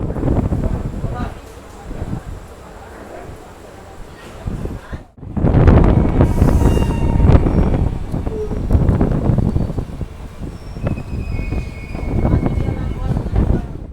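The Raxaul Howrah Express rolls out of Raxaul Junction at night, heard from inside a sleeper coach: a continuous rumbling, rattling roar with wind buffeting the microphone, a brief dropout, then heavier clatter as the train gathers speed, with voices around.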